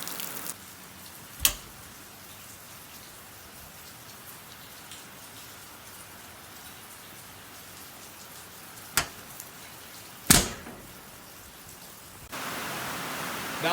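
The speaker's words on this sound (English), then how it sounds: "Start a video and here comes the rain." Steady rain hisses down around an outdoor cook on a Lonestar Grillz insulated mini smoker, a constant wash of drops with a few sharp knocks and a louder patch near the end.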